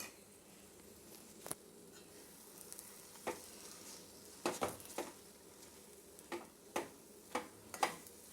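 Coconut powder is stirred into a traditional Tamil coconut milk sweet, making soft intermittent spoon taps and scrapes against the pan over a faint sizzle, with no talk.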